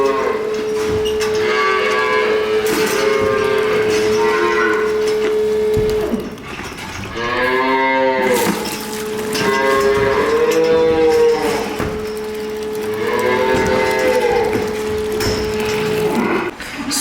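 A heifer with a lump on the side of her jaw moos loudly and repeatedly, giving several long, drawn-out calls close by over a steady background hum.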